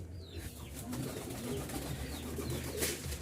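Pigeons at a pigeon market coo in low, rolling murmurs that repeat through the scene, fairly faint and overlapping against a busy background.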